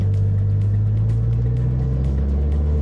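A Mitsubishi Evo X idles or rumbles inside an enclosed multi-story HDB car park, a steady low exhaust drone that stays loud and even for a few seconds with no talking.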